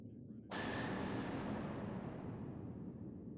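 Torpedoes fire in the space combat game DarkSpace with a sudden loud burst, followed by a broad, sustained rumbling roar that slowly fades.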